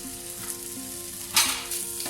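Garlic fried rice seasoned with salt, garlic powder and soy sauce sizzles steadily in a hot pan while being tossed, with a louder scraping flurry midway through the continuous frying.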